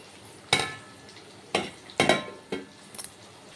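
A spoon scrapes and knocks against a pot while stirring simmering fish curry, four or five distinct clattering strokes spaced about half a second apart, close and fairly loud with quiet gaps between.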